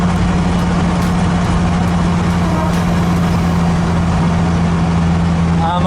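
A Nissan S14's engine runs steadily during a test after an exhaust gas temperature probe mount is fitted. The steady, loud, close idle hum holds without a break throughout.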